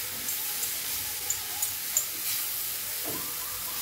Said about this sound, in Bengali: তাই অনেকক্ষণ ধরে মিডিয়াম টু হাই ফ্লেমে আমি এটাকে নাড়াচাড়া করে নিচ্ছি।